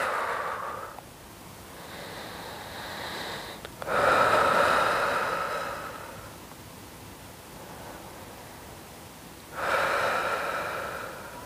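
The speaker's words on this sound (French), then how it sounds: "Et tu inspires et tu expires." Slow, deep breaths in and out during a gentle stretching session, each long airy inhale and exhale close to the mic, repeated in an unhurried rhythm with no talk.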